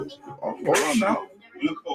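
A single sharp sneeze bursts out mid-conversation during a cooking livestream, landing amid ongoing talk from nearby people.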